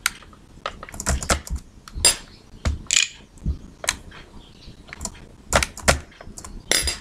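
Keys on a computer keyboard are pressed in quick, irregular clusters of close, crisp clicks and taps, with brief pauses between bursts.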